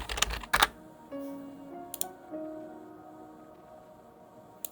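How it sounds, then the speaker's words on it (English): Quick bursts of keystrokes clatter on a computer keyboard at the start and again near two seconds, close and crisp, with a faint tone sounding in between and no talking. "We'll just type in run actually."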